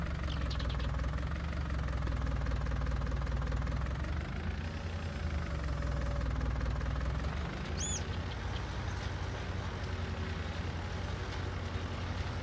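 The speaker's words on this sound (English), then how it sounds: "you can see like how the tractor is shaking while moving on this ground." Tractor engine in Farming Simulator 19 runs steadily with a low, rumbling drone and mild knocking as the machine rolls over rough ground, loud and continuous with no talking.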